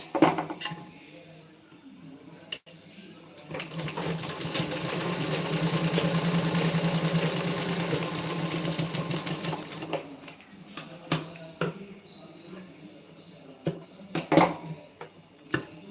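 A sewing machine runs a double line of stitching on a blouse, a sustained mechanical whirr of several seconds in the middle, surrounded by scattered clicks and handling noises at close range.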